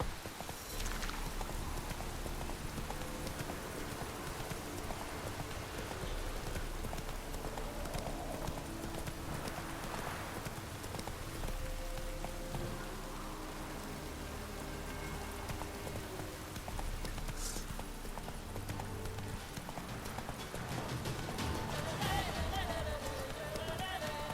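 Geralt's horse Roach clip-clops steadily along a trail in The Witcher 3 video game, the rhythmic hoofbeats running continuously under a constant patter of rain.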